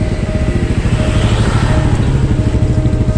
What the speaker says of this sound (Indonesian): ini motor jalan